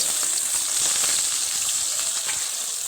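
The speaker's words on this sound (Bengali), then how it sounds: "আলুটাকে লালচে লালচে কালার করে ভেজে নেব" Dense, steady sizzle and crackle of long-cut potato strips frying in hot oil, loud and close, with no voices.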